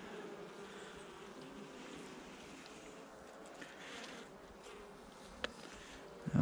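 Honeybee colony buzzing steadily during a November hive inspection, a dense continuous drone of many bees close by, with a few sharp knocks near the end and no talking.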